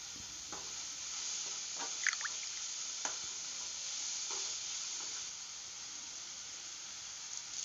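Onion mixture sautéing in a pan with a constant bright sizzle and occasional soft stirring scrapes, steady and close, no one speaking.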